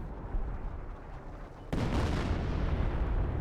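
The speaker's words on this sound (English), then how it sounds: "Stuff exploding" Game explosions in Company of Heroes 1, a World War II strategy match: a continuous rumble of battle noise that jumps sharply louder at the midpoint into a dense, booming blast that lingers, with no talk.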